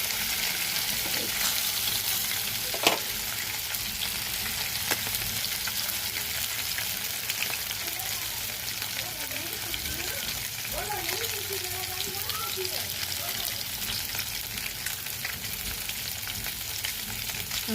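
A steady close sizzle of rui fish frying in oil in a kadai carries on without pause, with occasional pops and faint scraping and a voice briefly heard beneath it.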